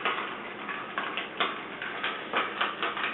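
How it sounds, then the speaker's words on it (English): A spoon stirring a rhubarb sour cocktail topped with tonic, producing a series of quiet, regular clinks and ticks against the glass along with ice, close up and with no talk. "we're going to stir this together"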